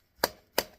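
A knife cuts into a baked beef, butter, bacon and egg meatloaf, two crisp, close chopping strokes a third of a second apart, each a sharp bright thud with a short fading tail, in quiet surroundings.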